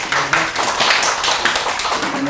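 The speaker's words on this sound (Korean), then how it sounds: "큰 박수 부탁드립니다." Applause from an audience at a health lecture on atopic dermatitis, broadband clapping that holds steady for a couple of seconds, with faint voices mixed in underneath.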